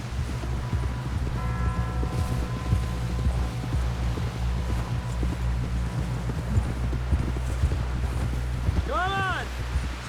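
Horse hooves clip-clop in Red Dead Redemption 2 at a steady ride over wind and a low engine-like drone, fairly close and continuous, with brief voice-like tones.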